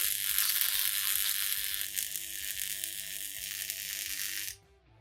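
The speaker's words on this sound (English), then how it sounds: "we'll be welding on this piece here. So let's get welding" Steady, loud crackling hiss of welding on steel during repair of a Land Rover chassis dumb iron, running continuously for about four and a half seconds before cutting off abruptly, with low mechanical hum underneath.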